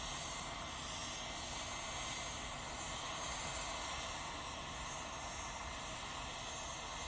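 Embraer Praetor business jet passing near Manchester Airport, a faint steady distant engine roar with a broad hiss that swells gently and fades, no talking heard.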